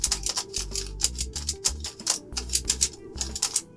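A Skewb twisty puzzle being turned by hand makes quick, close, crisp plastic clicks in an uneven rhythm, with short bursts of several clicks separated by brief pauses and no voice.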